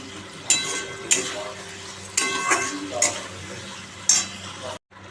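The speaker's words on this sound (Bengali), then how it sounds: "এখন সাঁতরাচ্ছি তারপরে জল দিয়ে মাছটা দিয়ে দেবো" Fish curry base being sautéed in a pan before water and small parshe fish go in: sizzling frying with five sharp stirring scrapes of a utensil against the pan, a brief silence at the end.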